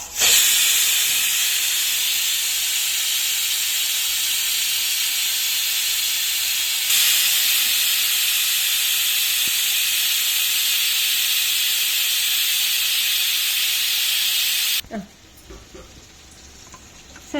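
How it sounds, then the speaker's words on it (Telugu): Steam hisses steadily and loudly from a pressure cooker cooking dal with ridge gourd, a constant bright rush that holds for about fifteen seconds before cutting off, leaving faint kitchen clatter. "కాసేపు ఇది ఇక్కడ ఆవిరి వచ్చాక అప్పుడు విజిల్ పెట్టినామంట"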